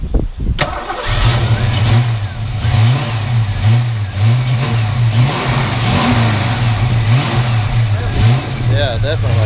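A stock Ford Mustang Foxbody that sat for over two years cranks and fires, then revs unevenly in loud bursts close by, its engine rising and falling as voices talk over it.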